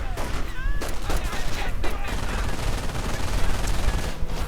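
Sustained machine gun fire rattles continuously through a strategy video game battle, loud and dense with overlapping bursts and background combat noise.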